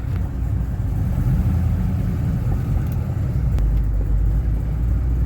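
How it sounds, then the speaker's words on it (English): A GM LS1 V8 idles in a 1970 Buick just fitted with a BBK SSI intake, giving a steady, close, low rumble that stays even throughout with no revving. "Idle quality is so much better."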